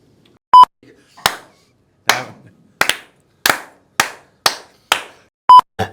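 Sparse, sharp claps from a small audience, about seven separate hits spaced roughly evenly, with a short electronic beep at the start and end.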